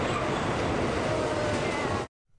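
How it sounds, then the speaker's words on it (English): Amtrak's California Zephyr, pulled by a locomotive into Sacramento Station, gives a loud, continuous rumble and rail roar that cuts off abruptly near the end. "a locomotive pulls Amtrak's California Zephyr into Sacramento Station"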